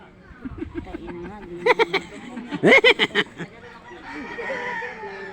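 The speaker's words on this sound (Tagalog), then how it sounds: "Manok." A rooster crows in a series of loud, harsh bursts with other fowl clucking around it, while people talk in the background.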